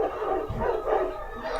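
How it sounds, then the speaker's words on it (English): Dogs bark from a pack in a film scene, a few quick barks and yips close by, layered over a busy background of other sounds. "how could these two people understand where to go just by a pack of barking dogs?"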